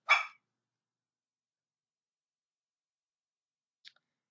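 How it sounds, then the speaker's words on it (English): A Chihuahua and Jack Terrier mix dog gives one short, sharp bark at the start, followed by a long silence and a faint, brief yip near the end, heard from a distance indoors. "Sorry, my dog is barking in the background."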